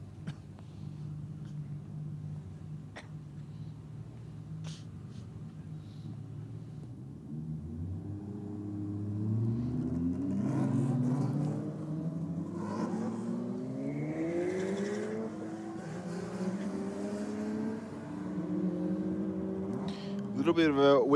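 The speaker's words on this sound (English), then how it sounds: "we've got our 2J powered hot rod about to come back out against the Evo." A 2JZ-powered hot rod launches against a Mitsubishi Lancer Evo in roll drag racing, engines revving and climbing through gears, the roar rising louder as the run builds, with a commentator speaking throughout.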